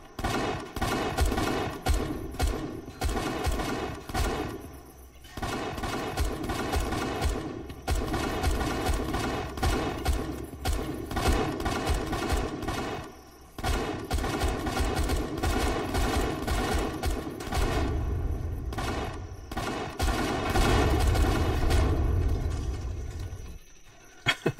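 Automated base turrets in the survival game Empyrion Galactic Survival pour sustained rapid fire into hostile robots, a dense, loud, near barrage that runs almost continuously with only brief gaps.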